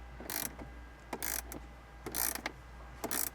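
A ratchet clicks in short bursts as it tightens a bolt on a molle panel for a Toyota 4Runner center console, about five quick spurts of clicking with brief pauses between them. The sound is close but fairly quiet, with no talking.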